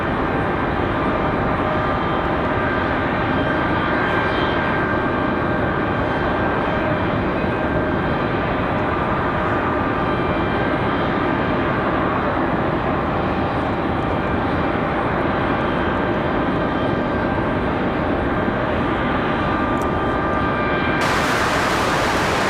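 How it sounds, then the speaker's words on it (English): VXP 9305, an airliner arriving from Concord at Raleigh Durham airport, makes a loud, steady jet roar with faint whining tones that holds unbroken for over twenty seconds, with no talking. "This is VXP 9305. This one coming in from Concord."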